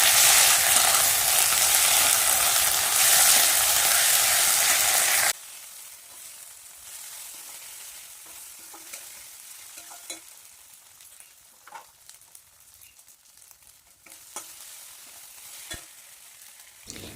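Ginger garlic paste frying with onions in hot oil, a loud steady sizzle for several seconds that drops to a quieter crackle with occasional scraping stirs.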